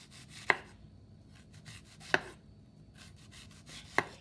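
A knife cuts a piece of food for a cheap breakfast, giving three faint, evenly spaced chopping thunks against a quiet room background with no speech.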